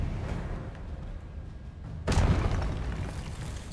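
A Confringo explosion spell goes off in Hogwarts Legacy: after a stretch of low rumbling ambience, a sudden loud boom bursts in and rolls on as a heavy, sustained rumble.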